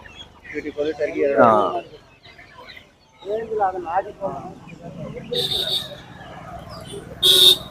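Kadaknath and country chickens clucking and calling near a house in Tamil Nadu, with loud bird calls mixed with someone talking over them and sharper cackles toward the end.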